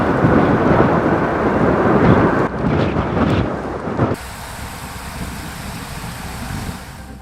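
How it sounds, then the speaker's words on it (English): Strong wind and rain from Storm Kieran at Birmingham Airport: loud roaring gusts and heavy rush that cut off abruptly and drop to a quieter, steady windy hiss, with no voices. "Planes struggle to take off and land in the strong winds and rain from Storm Kieran"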